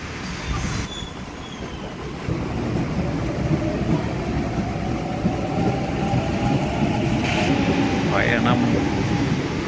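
Sydney Trains ride out of Redfern, New South Wales, toward Helensburgh, heard from inside the carriage as a steady rolling rumble with faint wheel squeal, continuous and close, while a voice talks.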